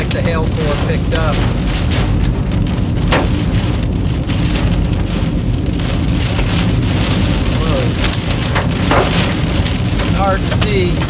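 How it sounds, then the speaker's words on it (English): Baseball-size hail hammers a car in a Kansas storm, a dense, constant roar of impacts with sharp louder cracks scattered throughout, close and loud, with a brief exclamation from a person inside. "Like the hail core picked up."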